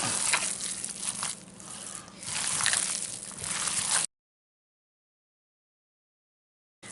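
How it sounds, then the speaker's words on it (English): Wet, squishy sloshing and crumbly mashing as flour and breadcrumbs are worked into a meatball mixture by hand, close and continuous for about four seconds before stopping abruptly. "This mixed with the breadcrumbs. Mix all that in."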